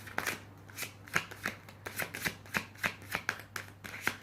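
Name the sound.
tarot cards being shuffled for a reading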